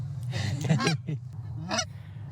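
Several geese honk in a burst of loud, overlapping calls over a steady low hum during a goose hunt in Kansas, then a final single honk.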